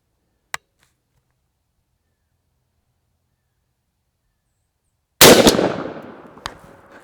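A shotgun fires a Federal 3 1/2 inch 00 buckshot load through a Boar Blaster choke tube: a short sharp click early on, then, after a long silence, one loud close blast with a rumbling tail.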